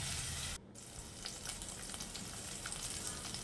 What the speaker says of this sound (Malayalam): ഉലുവ ഇട്ട ശേഷം നന്നായിട്ടങ്ങ് വഴറ്റിയെടുത്തിട്ട്